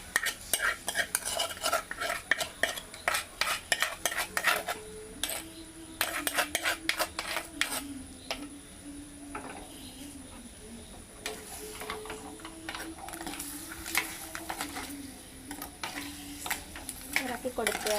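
Crab curry is stirred in a pan with repeated, rhythmic scraping and clinking of a utensil against metal under a faint sizzle, and a low steady hum runs through the middle stretch.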